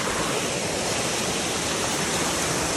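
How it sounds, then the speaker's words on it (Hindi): Steady, dense rush of falling rain and cascading waterfalls on a Himalayan mountain trek, a loud continuous broadband roar that fills the whole stretch with no voices. "ये बारिश, ये झरने,"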